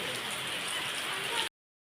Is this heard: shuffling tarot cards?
no